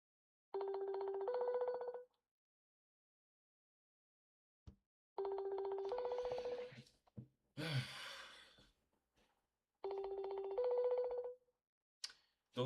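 Telephone ringback tone on an outgoing call, three separate bursts of the steady two-part ring pattern, each about one and a half seconds long, separated by silence, with faint rustling and a breathy sigh between them.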